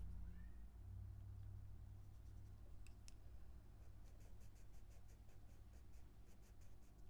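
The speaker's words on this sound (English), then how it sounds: "My cat, if you hear her in the background, there she goes. She's meowing." A pet cat meows faintly in the background of a quiet room, with a couple of short calls heard over the soft scratching of coloring pencils on paper.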